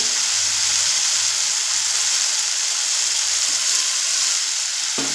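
Mixer-ground spice paste and water from the spice bowl sizzle in a pan while cooking the masala for a jackfruit kofta curry: a steady, close, loud frying hiss with soft crackle, continuous throughout and with no talking.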